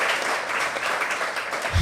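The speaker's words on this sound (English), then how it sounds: "Round of applause for Mark." Crowd applause at a live political event, a thick continuous patter of many people clapping at steady loudness for the whole short stretch.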